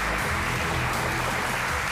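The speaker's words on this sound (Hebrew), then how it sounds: "במחיאות כפיים סוערות" Studio audience at a televised panel show breaking into sustained applause, a dense, even wash of clapping from a large crowd that stays steady throughout.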